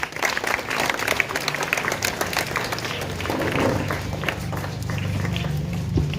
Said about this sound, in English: Please big a big round of applause for her.